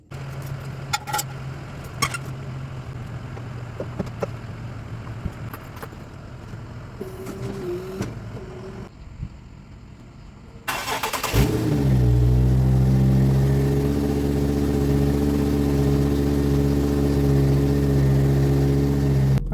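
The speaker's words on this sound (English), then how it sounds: "Let me drop down the car and start it" Nissan 370Z with automatic transmission starting up after a fluid change: quiet garage sounds and small clatters, then the engine cranks and catches near 11 seconds into a loud, steady idle with low harmonic rumble, no speech.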